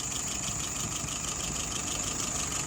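Steady car engine idling at about 680 RPM, a continuous low rumble with even vibration, close and constant throughout with no voices.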